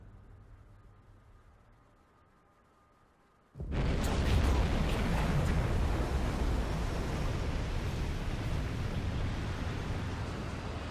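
A quiet, low hum gives way to a sudden deep torpedo blast against a ship in Silent Hunter 5, followed by a loud, sustained rumbling roar that slowly fades.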